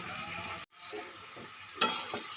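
Chilli powder and cumin powder stirred and fried in a pan for a chicken patty filling, a soft close sizzle with light scraping, one brief dropout and a sharper clink near the end.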